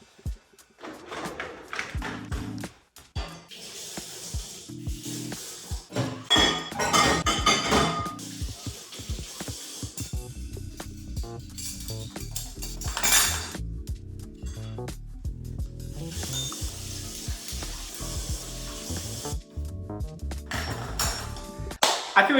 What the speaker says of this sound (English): put it straight away into the dishwasher